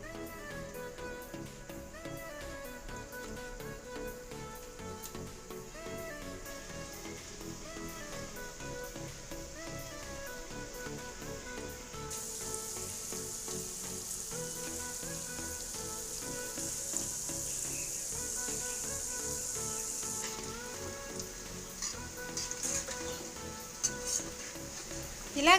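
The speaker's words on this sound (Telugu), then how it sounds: "ఆయిల్ హీట్ అయిన తర్వాత మనం ముందుగా ప్రిపేర్ చేసుకున్న వాటిని వేసుకుని మీడియం ఫ్లేమ్లో గోల్డెన్ కలర్ వచ్చేంత వరకు ఫ్రై చేసుకోవాలి." Sweet sugar-syrup dough pieces deep-frying in hot oil over a medium flame, a steady dense sizzle and crackle that continues throughout at moderate level, with no talking.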